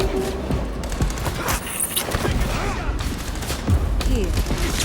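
Heavy, dense gunfire in the video game Vampire: The Masquerade – Bloodlines 2 goes on without letup, with loud bursts, booms and thuds behind a shouted voice.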